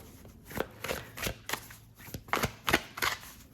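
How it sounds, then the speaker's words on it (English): Tarot cards being shuffled by hand in a quick run of crisp riffles and slaps, about eight distinct bursts, close and fairly quiet with nothing else behind them. "as I shuffle all of the cards"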